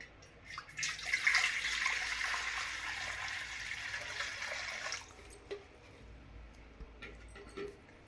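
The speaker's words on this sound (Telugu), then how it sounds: "ఇందులో నేను నీళ్ళు వేసి చూపిస్తున్నా చూడండి" A burst of water poured into a vessel set on an induction cooker, a loud rushing splash lasting about four seconds, then quieter scattered clinks and drips in a room.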